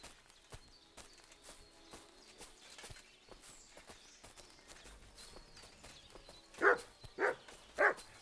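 Three sharp dog barks from the video game Kingdom Come Deliverance 2, spaced about half a second apart near the end, following quieter ambient game sounds with footsteps and hoof clatter.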